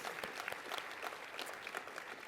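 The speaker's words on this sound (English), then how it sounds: "A round of applause for Sandra, I think." Audience applause at a World Refugee Day event, a steady crowd of many hands clapping, fairly distant and soft, with no talking over it.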